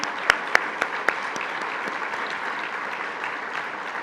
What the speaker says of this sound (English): give her a big round of applause and congratulations